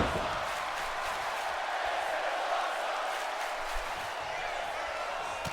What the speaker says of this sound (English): The crowd going absolutely ecstatic right now as Bourne continues his offensive barrage on Chosen